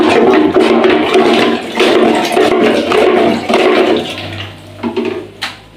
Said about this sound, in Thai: เราจะลาดน้ำเข้าไปนะครับ